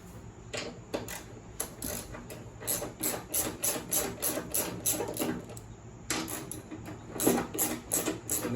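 Half-inch socket wrench working loose the belt guard on a Scotts 1742 mower deck, a fast run of close metallic ratcheting clicks and rasps in bursts, pausing briefly before resuming.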